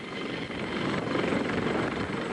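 A helicopter flies over a 1985 tornado drill in Orfordville, Rock County, with a loud, steady rotor and engine drone that fills the whole stretch. No one speaks.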